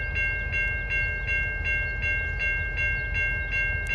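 Norfolk Southern freight locomotive creeping through a rail yard, heard as a low steady engine rumble with a repeating high metallic ringing tone about every half second, fairly close.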